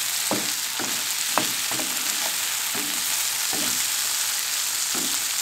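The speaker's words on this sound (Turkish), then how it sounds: "Şöyle bir kere karıştırıp ocağımın altını kapatıyorum." Sliced zucchini sizzles steadily in a hot pan, with a bright, constant frying hiss broken by regular scraping strokes from a spoon as it is stirred close up.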